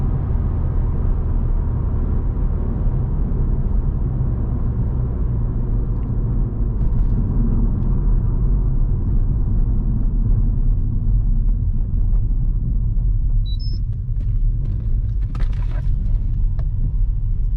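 Steady loud engine and road rumble from inside a 360 hp Mercedes-AMG A45 pulling away in first gear on Lekas Highway, a continuous low drone that holds without letup.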